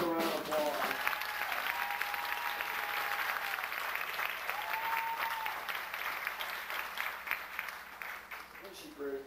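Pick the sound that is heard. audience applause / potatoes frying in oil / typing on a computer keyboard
audience applause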